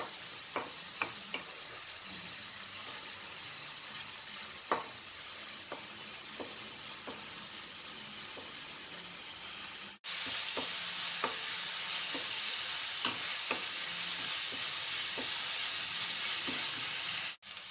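Onion paste frying in a pan, a continuous close hiss and sizzle dotted with small pops and ticks, steady throughout and briefly cut by a short gap partway.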